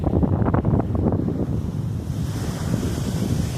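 Sea wind and surf roll steadily at Kattankudi beach, the waves breaking close by with a continuous loud rush and buffeting wind noise on the microphone throughout.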